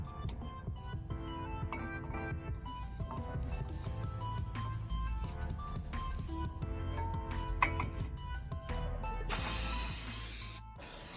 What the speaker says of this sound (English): Spray the brake cleaner over the rotor and calipers